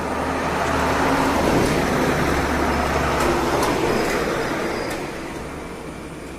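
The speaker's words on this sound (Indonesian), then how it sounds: "Mobil kontainer lewat guys." A container truck drives past on a road, rumbling loud and close before fading slightly as it moves away, with no talking.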